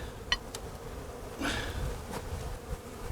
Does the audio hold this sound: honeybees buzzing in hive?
yes